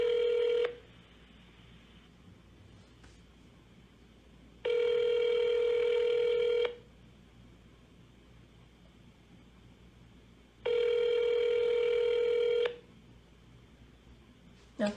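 A ringback tone on a telephone call to a medical triage hotline, where a steady electronic tone sounds for about two seconds and then pauses for about four seconds, repeating three times in the clip.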